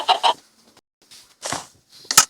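Chickens clucking in the video game Minecraft, a few short clucks in quick pairs followed by a longer squawk and a sharp final cluck, loud and close with quiet gaps between.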